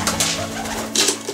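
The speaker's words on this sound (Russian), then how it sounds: "Гульки разлетались." Pigeons coo and flutter up close in a wintry outdoor setting, a low steady coo running under two brief bursts of wing flaps taking off.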